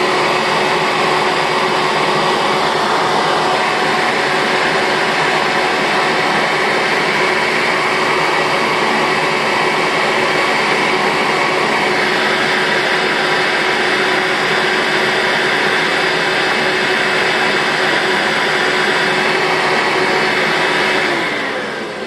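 A Shark NV650W upright vacuum cleaner, run off the carpet after one of its two bearings was replaced, gives a loud, steady high-pitched motor whine and airflow roar that holds for over twenty seconds without talk.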